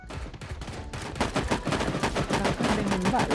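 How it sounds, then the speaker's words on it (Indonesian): Gunshots in the Sausage Man battle game: rapid shots and bursts of fire pop close and loud, running almost without a break through the whole stretch. "Kan ada yang nembak loh."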